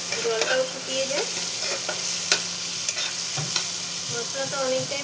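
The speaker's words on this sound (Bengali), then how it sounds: "পেঁয়াজের সাথে টমেটোটাও ভেজে নিতে হবে। ঢাকা দিয়ে ভাজলে তাড়াতাড়ি ভাজাটা হয়ে যায়" Onion and tomato fry in a pan, a steady sizzle broken by the scrape and clink of stirring, close and fairly loud with no one talking.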